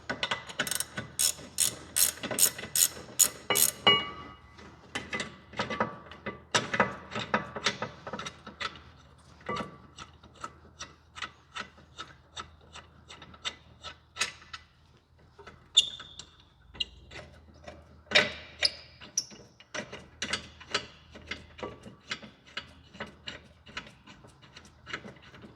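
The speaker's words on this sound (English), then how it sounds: "Once you break it free, then you can go to the gear wrench side. And take them the rest of the way off." A gear wrench ratchets off brake caliper bracket bolts in a garage, with rapid rhythmic clicking in repeated bursts and short pauses between runs, close and crisp, with no voices.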